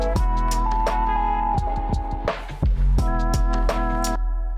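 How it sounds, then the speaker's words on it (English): An old-school hip hop drum fill with a scratchy vinyl texture, made of sharp repeated hits over a steady low bass note and sustained tonal layers, with a brief noisy burst partway through. "Kind of has this like vinyl scratchy kind of drum fill."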